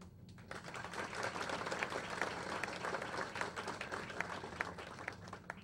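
Audience applause at a commemorative event honouring the fall of a dictatorship: steady, dense clapping from a crowd that holds throughout, with sharp individual claps standing out, moderately loud and without talk.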